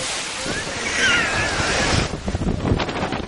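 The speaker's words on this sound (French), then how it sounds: "Lors de la tempête de Beauforset, même l'eau des piscines se déchaîne." Aboard the Carnival Pride cruise ship in a storm near Bermuda with gusts above 50 knots, pool water sloshes and surges heavily, mixed with roaring wind buffeting the microphone.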